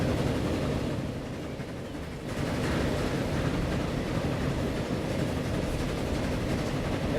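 Trains rolling along rails in the Transport Fever game, a steady low rumble of wheels and track noise with a brief lighter stretch partway through.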